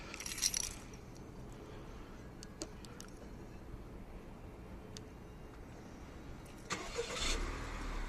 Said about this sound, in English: Car starts fine, no issues.